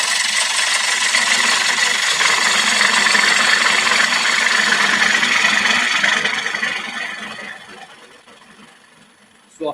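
A gouge cuts a spalted beech bowl on a wood lathe, making a continuous close scraping hiss over the lathe's hum that fades away, then ends with a short knock.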